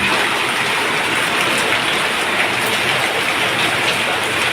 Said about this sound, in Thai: วันนี้ฝนตกจ้ะ